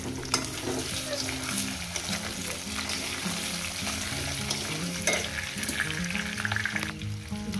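Taro pieces frying in a pan, a steady crackling sizzle throughout with occasional stirring scrapes, close and continuous, no speech.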